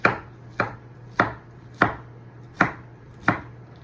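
A knife chopping through pineapple pieces on a cutting board, six sharp, evenly spaced thuds close up with quiet pauses between them and no talking.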